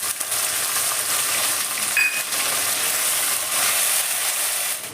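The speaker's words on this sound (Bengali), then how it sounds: "সেই পেঁয়াজগুলো তেলের মধ্যে দিয়ে দিলাম।" Sliced onions hit hot oil with lightly fried garlic for a Bengali fish-head pui chachra, giving a loud, constant sizzle and hiss close up, with no talking.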